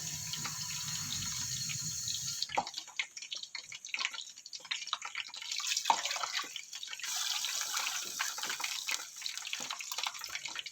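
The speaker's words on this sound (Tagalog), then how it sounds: "And we add 4 cups of water." Four cups of water poured into a cooking pot for noodles: a soft splashing trickle comes in separate pours with brief pauses between, faint and close, after a low hum at the start.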